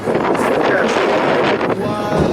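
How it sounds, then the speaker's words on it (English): Strong wind on a solo backpacking trail in the La Cloche Silhouette area buffets the microphone in continuous loud gusts, with a voice faintly under the roar. "Is it windy? Yes."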